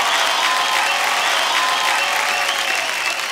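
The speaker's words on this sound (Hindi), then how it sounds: "भरत जी के लिए एक बार ज़ोरदार तालियाँ हो जाएं." Audience at an awards ceremony bursts into loud, dense, sustained applause that holds steady for the whole stretch, with no voices standing out above it.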